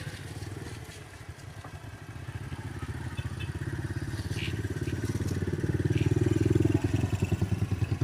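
Habal-habal motorcycle taxi engine running close by, a steady rapid putter that gradually grows louder as it revs, with a few faint clinks in the background.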